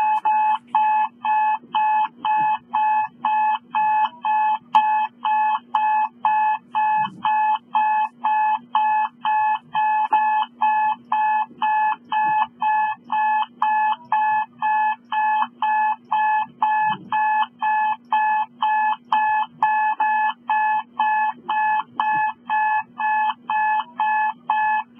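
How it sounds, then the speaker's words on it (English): An alarm clock rings in steady, rapid repeating electronic beep bursts, loud and close, continuing without pause for the whole stretch with no talking over it. "It's just a freaking alarm clock!"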